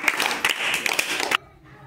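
Schoolchildren clap together in a maths classroom, a quick cluster of claps lasting just over a second that stops abruptly and leaves a quiet room.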